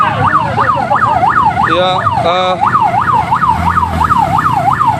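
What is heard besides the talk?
ambulance siren passing a street protest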